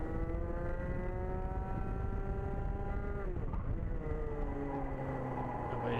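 A high-pitched two-stroke racing motorcycle engine whines steadily, its pitch sliding down then climbing again as it shifts, heard continuously without talk.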